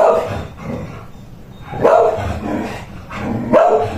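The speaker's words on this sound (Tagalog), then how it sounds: "pagpasensya nyo na yung aso maingay" A dog barks loudly and repeatedly nearby in bursts roughly every two seconds during work on a Yamaha NMAX V1 scooter spark plug, with faint talk in the background.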